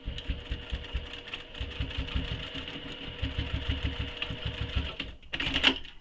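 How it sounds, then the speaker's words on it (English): A sewing machine stitches a mini messenger bag right up against its metal hardware, a fast steady mechanical whir-and-clatter running close for five seconds before stopping with a brief clink. "I'm just going to sew as close to the hardware as I can for now."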